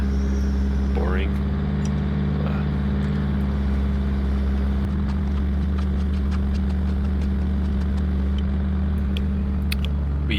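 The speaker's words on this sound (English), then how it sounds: "we're feeling much safer now with the mini hoe" A mini excavator fitted with an auger drills holes for 12-inch concrete piles for a garage foundation, giving a steady low diesel drone throughout with occasional faint clanks and scrapes.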